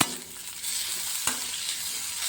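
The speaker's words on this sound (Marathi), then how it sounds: "मी आता हे पण परतून घेऊ आपण हे पण आपल्याला परतून घ्यायचं हलकस जास्त नाही तेलामध्ये थोडंसं तेल घेतलंय" Chillies and onions sizzle in a little oil in a kadai as they are sautéed for kadai paneer, a soft continuous hiss with a sharp spatula scrape partway through.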